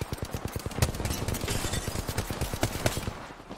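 Gunfire in the shooter game Apex Legends comes as fast automatic bursts of sharp close shots, firing in quick rattling runs with short gaps and a few louder reports mixed in.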